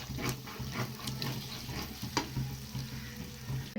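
Mutton pieces frying in a pan at home, a steady close sizzle with occasional scrapes and stirring clicks from a utensil, continuous throughout.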